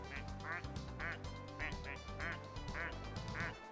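Duck quacks play as a sound effect on a live game stream, repeating in a steady string of about seven quacks over game music and background sound.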